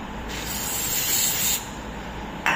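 Cleaner sprayed inside a part of a KTM Duke 250 motorcycle during a home service, a steady close hiss lasting a couple of seconds with a brief extra spurt at the end.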